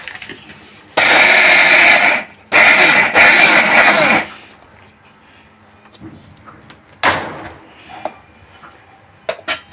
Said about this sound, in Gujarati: તો આપણે પહેલાં હવે અડદની દાળને અધકચરી ગ્રાઇન્ડ કરીએ